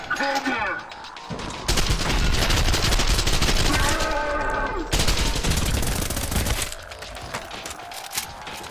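Assault rifle gunfire in the shooter game Trepang2, long loud bursts of rapid automatic fire with sharp cracks, interrupted by short pauses, with voices shouting over the shooting.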